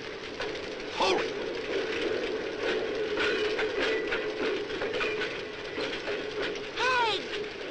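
A train from a 1965 Gamera monster film rumbles along with steady loud clattering and rolling noise, and brief squealing tones rise near the end.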